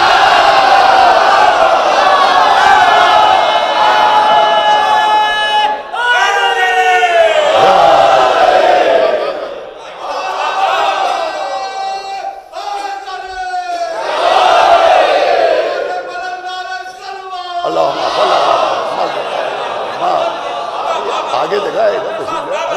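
A crowd at a religious gathering chants slogans in unison, loud call-and-response phrases rising and falling in repeated waves with brief pauses between them, close and forceful.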